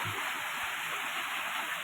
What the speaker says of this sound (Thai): น้ำตกสามจานนะครับ